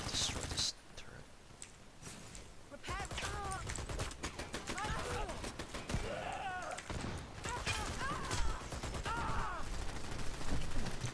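Gunfire in the Dirty Bomb shooter game as a player shoots down an enemy turret, a steady stream of rapid shots with small impacts layered over busy in-game effects and distant game chatter.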